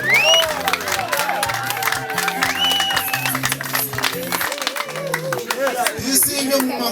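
Audience clapping and cheering at a birthday celebration, a dense patter of many hands over steady background music and talking voices, continuing throughout.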